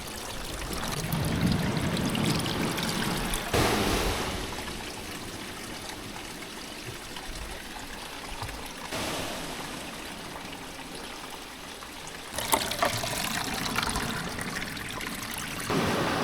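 Creek water trickling and flowing near a rocky beach campsite, a steady close babble with a couple of louder surges of gushing water.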